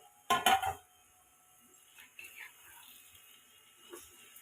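A metal lid is lifted off a frying pan of eggs, giving a sharp cluster of clinks near the start, followed by faint clatter and quiet kitchen sounds.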